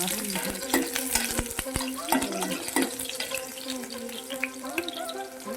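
Minced garlic crackles in hot oil in a pan for a ridge gourd curry, giving a busy, continuous sizzle broken by sharp clinks and scrapes of stirring, with a steady tonal hum behind it.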